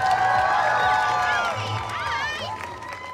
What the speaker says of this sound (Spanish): Un aplauso para Amy Villela.